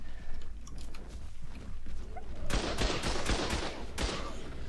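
A turret opens fire in the survival game Ark: Survival during a PvP base raid, with a rapid cluster of loud gunfire bursts in the second half over a low rumbling background.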